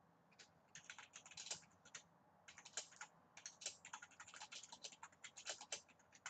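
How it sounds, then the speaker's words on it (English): Rapid, irregular typing on a computer keyboard, bursts of close, crisp key clicks with short pauses between runs, no talking. "I'm just typing this to her."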